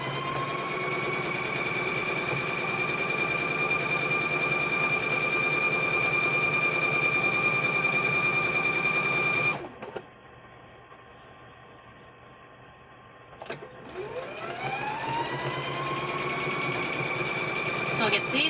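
A sewing machine stitches quilt squares with a steady, close mechanical whir. It stops for a few seconds, then starts again and speeds back up.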